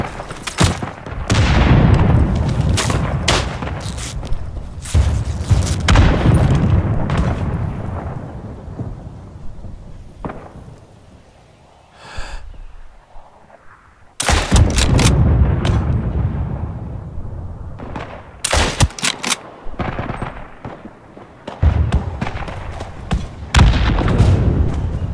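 Incoming gunfire in the Isonzo video game, a World War I shooter: heavy, booming cracks and rolling blasts erupt in loud clusters, separated by quieter stretches of distant rumble.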